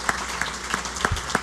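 An audience at a small business awards event claps for honorees, with a steady wash of applause and a few sharper, louder claps standing out at regular intervals.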